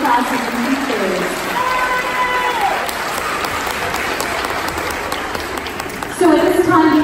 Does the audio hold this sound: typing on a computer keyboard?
no